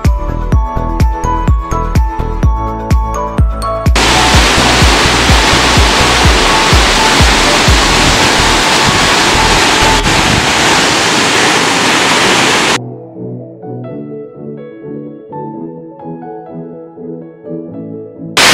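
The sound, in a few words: waterfall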